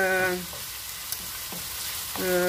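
Chicken pastilla filling frying in a pan, a steady close sizzle and crackle throughout, with faint stirring scrapes and brief clinks.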